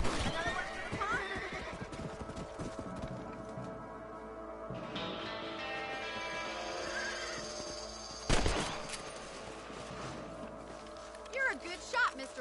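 A single sharp gunshot rings out in a video game rabbit hunt, over horse whinnies, clip-clopping hooves and a steady bed of game ambience, with voices talking around it.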